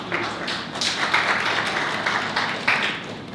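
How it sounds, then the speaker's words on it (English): A community audience at the Harlem Liberation School claps for an elder guest poet, giving a few seconds of even, close applause with a little tapping texture and no talk over it. "Let's clap it up for our elders."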